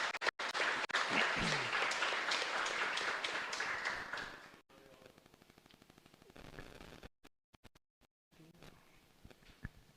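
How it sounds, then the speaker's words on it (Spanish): Loud applause from a church congregation at a live Mass in a chapel, dense clapping for about four seconds that then tapers into scattered, sparser claps and near silence. "Vamos a darle un fuerte aplauso."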